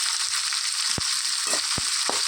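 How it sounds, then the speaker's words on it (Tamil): Small onions and chopped coconut pieces fry in a pan for a coconut mutton curry, a steady bright sizzle broken by a few sharp scraping stirs near the end, with no talking. "அந்த வெங்காயம் தேங்காய் எல்லாம் வதங்கிட்டுருக்கு"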